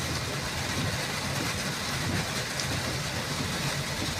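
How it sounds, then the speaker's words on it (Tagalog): Heavy rain pours steadily onto a flooded road in Guadalupe, a dense continuous roar of water with a low rumble underneath and no voices. "Grabe, nagbaha na ang kalsada. Tungod din sa kusog sa ulan"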